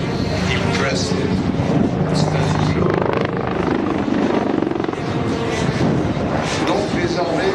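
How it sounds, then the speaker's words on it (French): Tigre attack helicopters fly air-to-air combat maneuvers at the 2013 Le Bourget air show, their rotor and turbine roar loud, dense and unbroken throughout, with a voice speaking over it. "it is entirely made of air-to-air helicopter versus helicopter combat maneuver"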